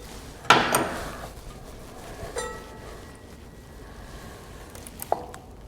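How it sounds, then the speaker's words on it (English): Rear brake pads pulled out of the caliper of a BMW R1250 GSA motorcycle with about 34,000 miles, heard as a sharp metallic clack followed by scattered small scrapes and a later click, close and otherwise quiet. "Get this brake pad out, and this brake pad out first."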